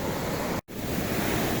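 Sea waves at San Juan, La Union beach roar as a loud, steady wash of surf with wind, cut by a sudden brief dropout partway through.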